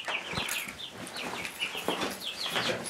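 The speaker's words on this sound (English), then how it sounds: "We gotta wrangle up a chicken." Chickens cluck and squawk in agitated bursts as one is caught during homestead farm chores, with scuffling and faint wing movement close by.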